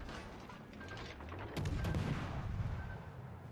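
Warship guns fire in World of Warships: Legends: a sudden heavy boom of a naval salvo cuts in, followed by rumbling echoes over the battle's background noise.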